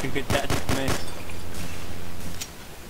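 Gunfire in Hidden: Source, a quick volley of four or five loud, close shots in the first second, followed by a few fainter scattered pops, over background game noise.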